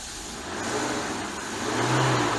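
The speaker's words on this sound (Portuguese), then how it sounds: "Vamos acelerar a caminhonete" A Ford Ranger 3.2 pickup with an electronic injection fault code, its engine revving up from idle in two rising pushes, close and steady.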